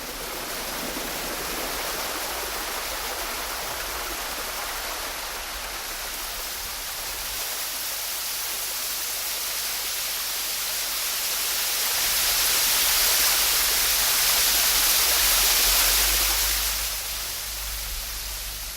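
The waterfall at Dalongqiu in the Yandang Mountains gives off a steady, dense roar of rushing, splashing water that swells louder toward the end and goes on without pause or voices.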